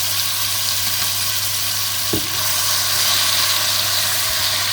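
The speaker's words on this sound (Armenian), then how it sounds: "տապակում" Tomato and red pepper paste frying in a pan, a loud continuous hiss and sizzle with a single soft knock partway through and no voices.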